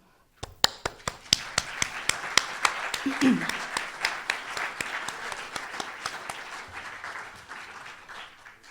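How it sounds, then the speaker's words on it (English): At an LCC annual meeting, the audience applauds members who stand: a run of sharp, distinct claps starting slowly, then thickening into steady clapping that fades toward the end, with a brief murmur of voices partway through. "I would like you to please stand if you've been a member, so we can applaud you for the efforts that you've made."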